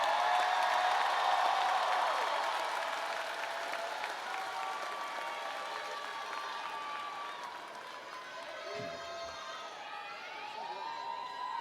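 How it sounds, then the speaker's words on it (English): A stadium crowd at a high school graduation applauds the Class of 2024, with broad clapping and scattered cheers from a distance that gradually fade and thin toward the end. "Give them a round of applause."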